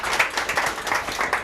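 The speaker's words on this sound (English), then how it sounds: "I think your applause was a little bit premature" Audience applause at an evening talk on wildlife diversity, a steady wash of many hands clapping with a few louder peaks, filling the room without voices.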